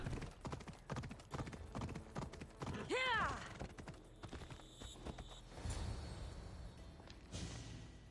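Horse hooves clip-clop in Assassin's Creed Odyssey, a steady rhythm of close hoof strikes, broken midway by a clear whinny from the horse, then more footfalls against faint background ambience.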